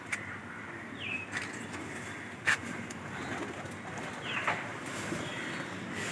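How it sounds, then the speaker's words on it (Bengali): Pigeons just fed by their keeper coo softly in a few short, scattered calls over quiet background hiss, fairly close but low in level. "সবগুলো কবুতরকে খেতে দিয়েছি"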